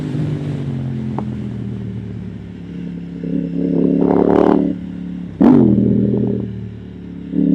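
A KTM Duke 890R motorcycle engine pulls steadily in third gear, a continuous near drone that swells louder mid-way, drops briefly with a sharp shift-like break, then builds again, with no talk.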